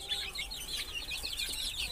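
Caged desi chickens cluck softly in a brief, fairly faint burst of overlapping calls.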